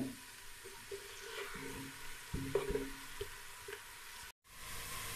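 A medium onion sizzles in hot oil left over from frying okra, a steady close crackle and hiss with occasional soft stirring knocks and a brief dropout near the end.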